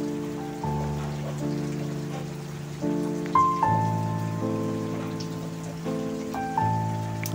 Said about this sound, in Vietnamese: Mưa nó ướt hết rồi thưa cả nhà ơi.